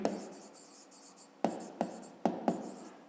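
Pen strokes scratch across paper while a math exercise answer is written out, a soft continuous scribble broken by several sharp, distinct taps and strokes, close and alone.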